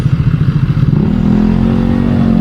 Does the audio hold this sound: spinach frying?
no